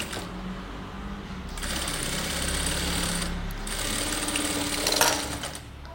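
A sewing machine runs steadily, stitching a fabric seam for a dress, its fast even mechanical whirr continuous and close, swelling slightly toward the end before easing off.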